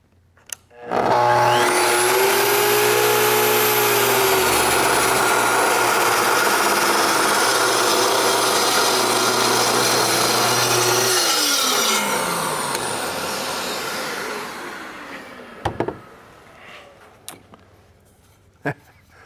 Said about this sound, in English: Red oak, it's hard, and that saw just blows through it.